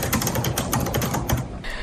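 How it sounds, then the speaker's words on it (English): Someone types angrily on a computer keyboard, a dense rapid clatter of hard key strikes with a few heavier hits, close and continuous. "Really like the stock footage of him angrily typing on the keyboard."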